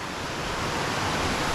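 A cool, clear mountain creek with waterfalls and wild trout rushes steadily as a broad, constant wash of flowing water. It sounds close and fairly loud, with no voices.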